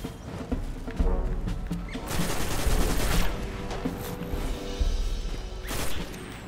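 Enemy gunfire in the Destiny House of Wolves DLC rattles in dense, repeated bursts of shots and impacts that run through the whole stretch, loud and busy with no clear pauses.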